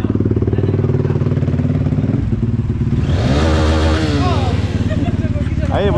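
A motorcycle exhaust drones steadily at close range, then the engine revs up with rising and falling pitch, with someone talking over the sound.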